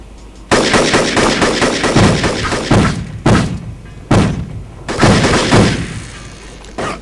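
Automatic gunfire in the video game Devastation, heard aboard a big cargo ship, with loud rapid bursts separated by short pauses and a couple of heavy single thuds, close and alone without talk.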